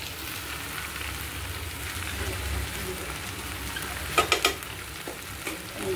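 Okra frying in a pan gives a steady, moderate sizzle throughout, with a brief clatter of stirring near the end and no talk.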